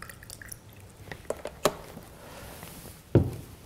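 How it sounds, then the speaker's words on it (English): Fruits and vegetables being soaked in 11.5 pH kangen water give a few scattered drips and small splashes, with one sharper plop near the start and a louder splash toward the end, close and quiet between. "we're going to soak our fruits and vegetables"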